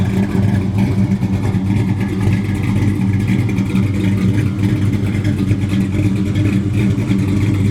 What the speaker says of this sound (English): it was built to handle the 500 horsepower that the engine puts out.